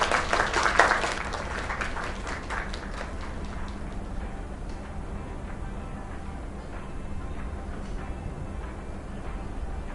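Crowd applause in the video game Lake, a burst of clapping from a small group that is loudest at the start and thins out over the first few seconds, leaving a low background hum.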